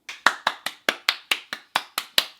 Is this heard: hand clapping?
yes